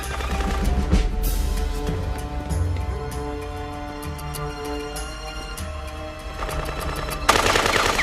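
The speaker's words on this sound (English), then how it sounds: "Shots fired." Machine-gun bursts and gunshots crack through an action film scene, loud and close, with a heavy opening burst, sustained rattling fire under a musical score, and a fresh loud volley at the end.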